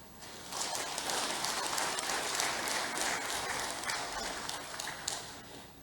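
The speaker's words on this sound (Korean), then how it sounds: "박수 한 번 더 크게 보내주시기 바랍니다." Many people in a ceremony hall applaud at a Won Buddhist commemoration. The clapping rises quickly, holds as a thick steady patter for several seconds, then tapers slightly near the end.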